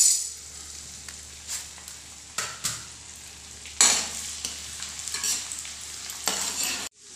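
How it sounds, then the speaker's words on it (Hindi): Pieces of edible gum (gond) frying in small batches in a pan over a low flame, a soft continuous sizzle broken by scattered louder bursts and occasional stirring scrapes. "अब हम आधे कप गोंद को फ्राई कर लेंगे। थोड़ा थोड़ा करके फ्राई करना है।"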